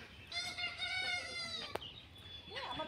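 Chickens in a village yard near goats make clucking and harmonic crowing-like calls, fairly close, with a sharp knock midway and a further cackle toward the end.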